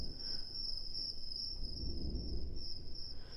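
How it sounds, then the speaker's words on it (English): Crickets chirp in a continuous high, shrill drone, steady and unbroken throughout, over a low rumbling background. "So here the crickets go away, and then add them in."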